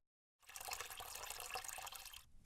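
Cold water runs from a tap into a cleaning bucket, a steady close gushing splash that starts abruptly after a brief silence and continues evenly until it is shut off.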